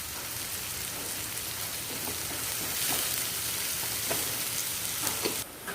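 A steady, dense sizzle and crackle of beaten brain and egg mixture poured into hot rendered beef fat, close and continuous with no talking.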